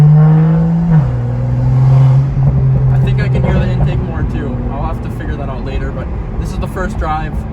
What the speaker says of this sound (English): I think I can hear the intake more too.